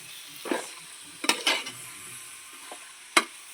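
Short bursts of sizzling as curry leaves hit hot oil in a pan of chicken curry, with a few stirring scrapes, quiet between bursts.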